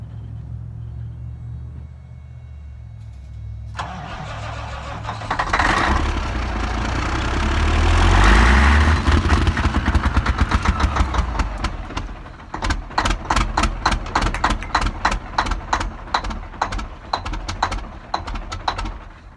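A Kenworth K100 cabover diesel truck cranks, catches and fires up. A deep rumble builds into a loud running diesel that settles into a rapid, rhythmic clatter close by, with no talking.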